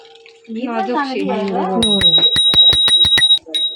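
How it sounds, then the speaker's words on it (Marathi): A new bicycle's bell rings in a quick run of bright, close dings after someone speaks, then a final ring. "बेल पण मस्त आहे बेल पण आहे"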